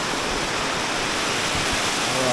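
Steady rushing roar of a waterfall on a Jamaican river, dense and continuous at close range with no breaks.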